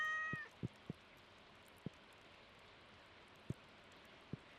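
A cat in the farming game Stardew Valley gives a short meow, followed by a handful of soft, sparse clicks and taps spread over several seconds against quiet, faint ambience.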